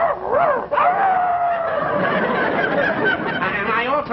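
A man imitates small dogs with his voice, producing rapid high yips and whiny barks that rise and fall over several seconds, close and loud.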